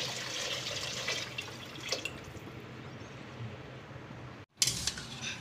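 Water being poured into a pot for rice porridge, a soft continuous splashing pour close by that fades briefly, then a sudden short splash near the end, with no voices.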